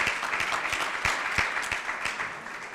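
An audience at a technical conference session applauding a student, a brief patch of moderately loud, rhythmic clapping with a few distinct sharp claps standing out above the crowd.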